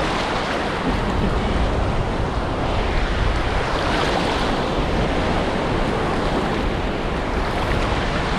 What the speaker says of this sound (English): Wow, look at all those waves.